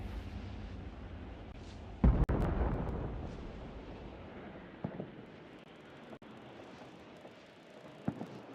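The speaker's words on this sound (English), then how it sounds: "There was an explosion kind of nearby." A single deep boom from an explosion nearby in an online battle game, a sharp low thump followed by a rumbling decay, with a couple of faint distant thuds afterward against quiet background noise.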